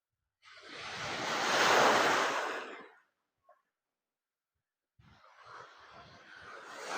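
Ocean surf on a coastal shore swells into one loud, close wash that fades away, followed after a pause by a second, softer wave building in, with some wind rumble.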